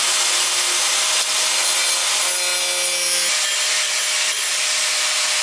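A power drill grinds steadily and loudly into material as the drill bit wears out, a continuous rasping whine with no pauses and no voices.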